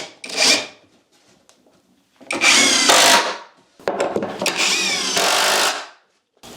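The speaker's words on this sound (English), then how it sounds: "So I'm going to do some more screws in there as well." A power drill drives screws into a wooden twin bed frame through pre-drilled holes, in three loud, close bursts of whirring and grinding separated by short pauses.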